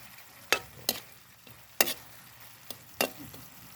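Spoon scraping and stirring a simple vegetable dish in a pan, with several distinct clacking strokes spaced irregularly over a faint steady sizzle.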